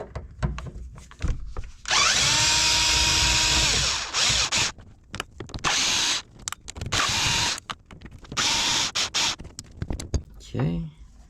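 A power tool spins off four 10mm bolts holding the shifter of a Nissan 350Z, giving repeated loud whirring bursts with short pauses between them and clatters in the gaps.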